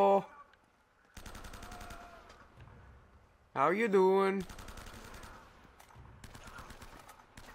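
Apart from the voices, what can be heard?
gunfire from the video game Uncharted: Drake's Fortune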